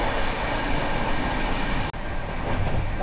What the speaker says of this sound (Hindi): हाई स्पीड देखिए भाई साहब ट्रेन की।